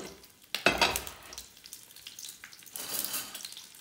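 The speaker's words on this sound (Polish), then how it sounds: "zanim podsmażymy mięso, wrzucamy cebulki w całości. I one nam się zarumienią" Whole onions sizzling in hot fat in a pan before beef is seared, a sharp spatter as they go in, then a softer crackling hiss that swells again near the end.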